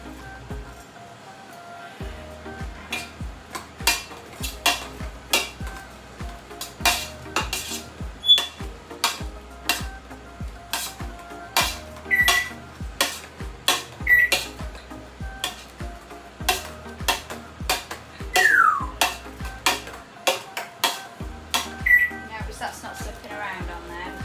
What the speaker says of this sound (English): Mashed potatoes.